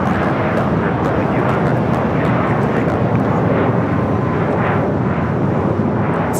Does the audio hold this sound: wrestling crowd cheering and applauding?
no